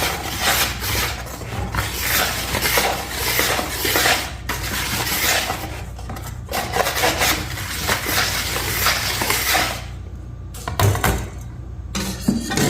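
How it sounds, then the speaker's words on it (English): Bread ingredients get stirred together in a bowl, giving continuous scraping and rubbing strokes of a utensil against the bowl with irregular rhythm, close and fairly loud, pausing briefly near the end. "And then let's stir it. Let's just mix these ingredients together."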